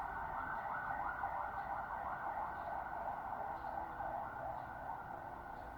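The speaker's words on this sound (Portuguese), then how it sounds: "deixa eu só passar a ambulância aqui" An ambulance siren wails steadily and continuously, its rising and falling tone moderately distant beneath low road rumble, with no voices over it.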